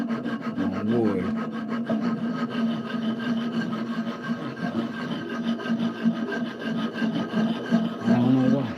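A hand file rasping across wood in steady back-and-forth strokes, close and fairly loud, with a continuous gritty scraping texture throughout and no talking.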